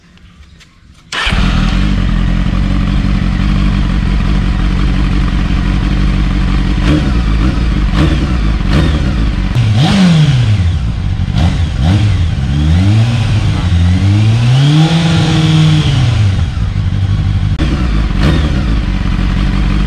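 A Honda CBF 600 motorcycle fitted with a new Mivv exhaust fires up for the first time, then idles loudly and steadily with several sharp throttle revs rising and falling midway.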